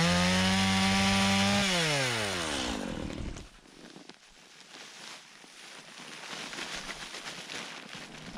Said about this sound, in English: So we'll get the chainsaw started, put a tarp down, and try and collect as much of that as we can.